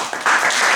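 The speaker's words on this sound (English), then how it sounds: "All right, everybody give a round of applause." A crowd breaks into a burst of dense applause at the end of a presentation, rising quickly to a loud, steady clatter of hands.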